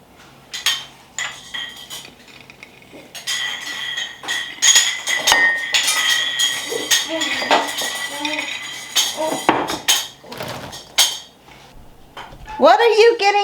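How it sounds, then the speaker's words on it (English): Metal canning rings clink and clatter repeatedly as someone plays with them, bright irregular metallic jingles and knocks of varying loudness, close by, with some talk at moments. "Are you just making a mess with those canning rings?"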